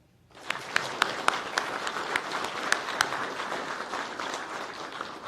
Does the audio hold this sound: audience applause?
yes